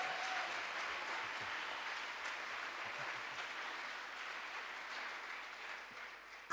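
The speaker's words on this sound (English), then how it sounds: "Let's applause again." A large audience at an international jubilee opening session applauds after a song, broad, even clapping heard from a distance that slowly fades toward the end.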